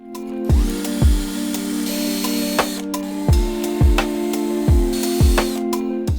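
A power drill bores holes in wooden bars for a pet bed, each hole a sharp thump followed by a whining spin-down, repeated about seven times in a quick irregular rhythm, close and loud over a steady motor hum.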